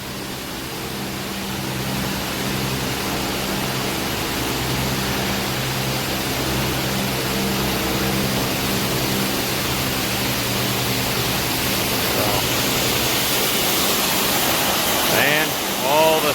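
Water pours and sprays steadily as it washes out the inside of a refrigerated trailer, a continuous loud rushing hiss that holds evenly throughout, with a brief knock near the end.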